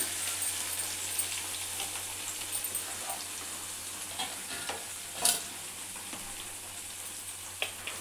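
Onions fry in a pan with mustard seeds, a quiet steady sizzle broken by a few stirring scrapes and a sharper clink, close by with no voices.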